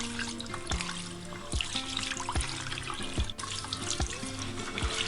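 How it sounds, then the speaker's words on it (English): Rice washed under a running kitchen tap, a steady stream of water splashing into a sink or bowl, with swishing and several sharp knocks and clinks scattered through it, close and moderately loud. "wash the rice until you get clear water"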